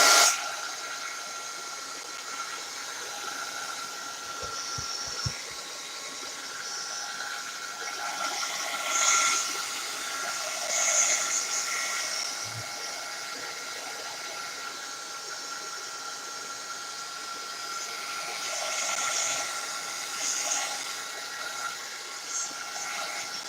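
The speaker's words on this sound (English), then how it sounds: "I'm going to heat gun this real fast just to make sure that it's dry good enough before I flip it" A heat gun runs steadily for over twenty seconds, drying a freshly glued page in a Halloween journal gluebook, giving a continuous airy hiss with a faint motor hum, fairly close and alone without talk.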